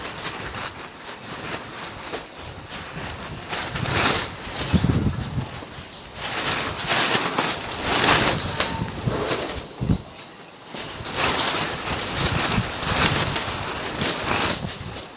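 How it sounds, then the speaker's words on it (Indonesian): Strong gusty wind buffets a greenhouse used for hydroponic plants, rising and falling in broad noisy surges with flapping and rattling that come and go across the clip. "anginnya gede banget."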